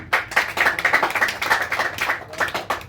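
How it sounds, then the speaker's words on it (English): An audience in a classroom-style setting claps hands in a steady, rapid patter of many overlapping claps lasting about three seconds, moderately loud and close, with no talking over it. "So please clap for him."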